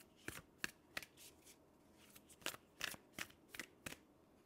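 Tarot cards shuffled by hand in a series of crisp riffling bursts, about ten short flutters in an uneven rhythm, close and fairly quiet with no talking.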